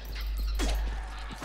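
A dog in the video game Resident Evil 5 whimpering, brief high whines and yelps over a constant low game rumble, close and moderately loud.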